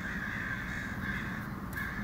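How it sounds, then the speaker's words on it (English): A large flock of crows caws just outside a door, their harsh calls overlapping into a continuous, fairly loud din with no talking. "there's just a giant murder of crows right out my door there"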